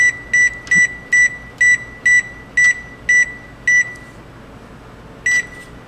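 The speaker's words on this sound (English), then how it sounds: "And set the timer for 10 minutes." Electronic oven timer on a kitchen stove beeping as it is set, a row of nine short, bright, evenly spaced beeps followed by one last beep after a pause, clear and close with no talking.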